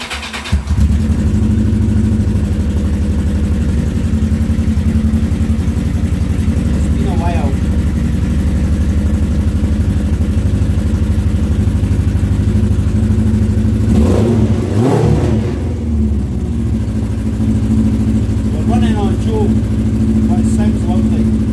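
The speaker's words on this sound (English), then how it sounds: "it'd be rude not to start the bike up while I'm here" A Yamaha XJ900 motorcycle engine fires up and runs loud and close with a steady rumbling idle, with a couple of brief revs partway through.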